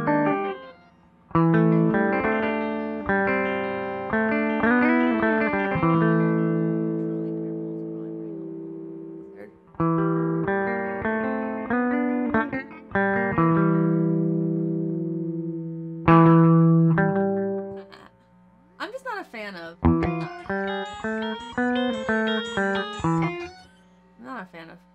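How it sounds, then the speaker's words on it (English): Electric guitar played through a Line 6 POD Go transistor tape echo modeled on the Maestro Echoplex EP3, melodic phrases with repeats trailing behind each note, clean sustained tone in several separate passages. "Transistor tape based on the Maestro Echoplex EP3."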